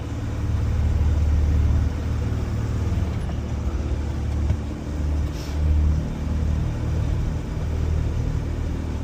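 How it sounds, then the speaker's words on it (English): A 1993 Mercedes 290GD diesel G-Wagon engine pulls at full throttle, a steady low droning rumble with road noise, heard from inside the truck and continuous throughout, with no talking. "That is to the floor and under the speed limit. That is the diesel G-Wagon model."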